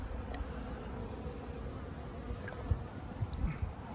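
Honey bees buzz around hives in a faint, steady drone close by, with a few soft thumps and clicks near the end.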